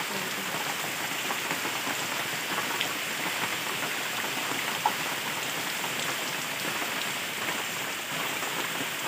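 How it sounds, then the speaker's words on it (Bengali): Heavy rain pours down steadily over a rural yard, a dense, continuous hiss of drops drumming on surfaces with no pauses, fairly close and filling the whole scene. "এইদিকে প্রচুর বৃষ্টি হচ্ছে।"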